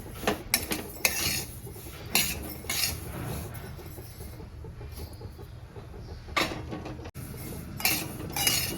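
Broken wheat dry-roasting in a kadhai over low gas, with a metal spoon scraping and clinking against the pan in repeated bursts over a quieter hiss, close by and without talk.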